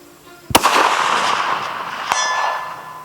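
A long-range rifle fitted with a light 1.75-pound trigger fires one loud, sharp report that rings out and decays over a couple of seconds, with a faint distant impact or echo following.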